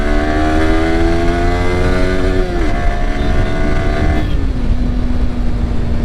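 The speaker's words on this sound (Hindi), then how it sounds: "तो काफ़ी अच्छे से मतलब जो है पुल हो रही है मोटरसाइकिल" A Yamaha R15 V3 2021 in metallic red being ridden hard, its single-cylinder engine revving up loud and close with rising pitch, a brief dip at a gear change, then pulling again, with steady wind rush underneath.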